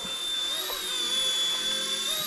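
A Motion RC mini helicopter hovers steadily nearby, its small motor and rotor giving a constant high-pitched whine with a faint rotor buzz, without pause.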